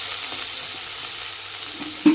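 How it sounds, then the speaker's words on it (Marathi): Chopped onion frying in hot oil in a preheated pot, a dense steady sizzle heard up close with a few faint stirring knocks and one louder clink at the end. "तर त्यामध्ये आता मी हे कांदा घालणार आहे."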